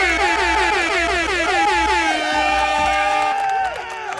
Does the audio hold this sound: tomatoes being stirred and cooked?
no